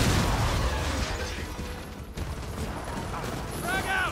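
Rapid gunfire from an online Gears of War 4 match, dense continuous bursts with thumps and mechanical clatter filling the clip, while players talk over the shooting.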